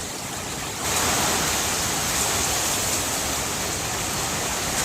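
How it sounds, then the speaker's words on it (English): Strong hurricane wind during Hurricane Milton in Plant City, Florida, roaring as a steady broadband rush that swells sharply after the first second and holds loud and constant. "The wind is picking up."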